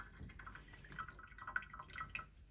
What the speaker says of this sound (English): Let the chemical drip off.